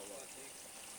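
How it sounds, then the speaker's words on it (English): Water runs steadily from a solar-pumped community well in a Kenyan village, a close, continuous gushing stream that fills the short moment on its own. "See the amount of water."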